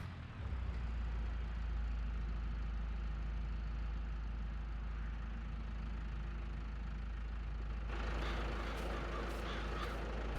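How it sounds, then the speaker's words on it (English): Tractor engine in a farming simulation game idles at a steady, continuous low rumble, loud and alone with no talk, with a brighter mechanical rise in the final couple of seconds. "Man, I love the sound of this tractor."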